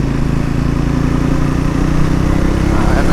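Triumph Scrambler 400 X motorcycle, a 40 hp single on a 180 kg adventure-style bike, running steadily at low road speed with revs held up; a continuous, loud engine drone throughout.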